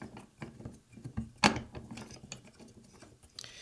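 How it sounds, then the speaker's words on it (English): A Manfrotto super clamp tightens onto a table with a short ratcheting, mechanical clatter, one sharp knock standing out in the middle and softer handling noises around it, close and fairly quiet. "I basically take a Manfrotto super clamp. I'll clamp it to this table"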